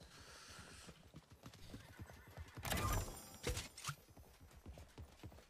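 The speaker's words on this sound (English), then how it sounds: "I hear another horse." Rhythmic clip-clop of horse hooves plays throughout, with a loud whinny rising in the middle, all in the soundscape of the online game Anarchy 77 without talk.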